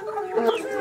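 Pullet chickens cluck in a short burst, several birds close by with overlapping throaty calls.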